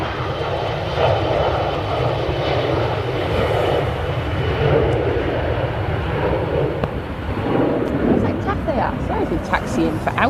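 A Boeing 737 jet at Manchester Airport fills the air with a loud, continuous engine roar and rumble over ten seconds, with people talking faintly underneath.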